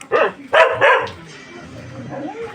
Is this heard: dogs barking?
yes